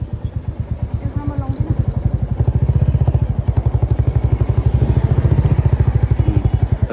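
A motorcycle engine running close by, a steady rapid low thumping throb that rises slightly in strength midway, with a voice speaking briefly over it.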